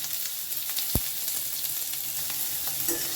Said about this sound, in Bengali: এবারে তেলের মধ্যে দিয়ে দিচ্ছি কুচো করে রাখা পেঁয়াজ